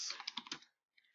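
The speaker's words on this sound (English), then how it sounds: "I don't know if I'm typing anything right, and I don't care." There is quick typing on a computer keyboard. A close burst of rapid, clattering keystrokes is followed by a short pause and then a few more light taps.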